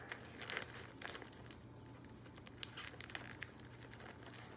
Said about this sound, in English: Taking secondary tubing out of the bag.